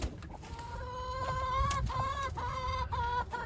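Several hens cluck and murmur in wooden nesting boxes on a farm, close by, with repeated short clucks and drawn-out calls layered over steady background noise.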